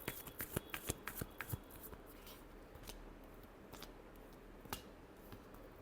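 Tarot cards being shuffled by hand, a quick run of crisp riffling snaps and flicks at first, then slower scattered taps and slides, close and quiet.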